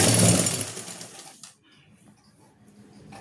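A sewing machine stitches the neckline of a suit in a short loud burst of rapid whirring at the start, then stops, leaving quiet room noise.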